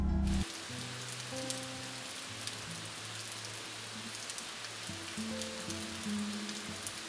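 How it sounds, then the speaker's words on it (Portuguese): Steady rain falls across a surface in a continuous soft hiss, with a faint low hum in the background and no voices. "e a chuva começou."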